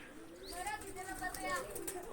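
Pigeons coo softly in a loose, overlapping rhythm at moderate distance, with chirps mixed in, while people talk nearby at a pigeon-flying contest.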